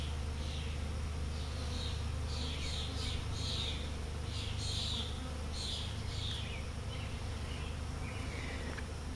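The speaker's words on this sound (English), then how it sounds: "Looks like a pretty busy hive." Honeybees buzzing around a busy hive, a steady dense hum with individual bees droning past close by in repeated swells, no talking.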